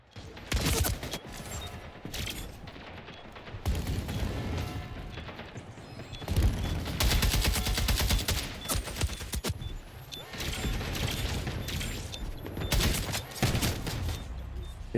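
Splitgate 2 match with repeated shotgun blasts and bursts of gunfire mixed with mechanical clicks and reload clatter, coming in loud clusters across the stretch with brief lulls.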